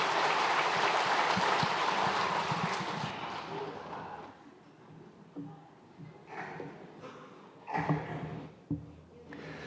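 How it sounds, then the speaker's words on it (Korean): Church congregation applauding during a Sunday service to encourage children honoured with model-child certificates; a steady broadband clapping wash for about four seconds, then fading into scattered softer claps and a brief spoken voice. "큰 박수로 격려해 주시기를 바랍니다"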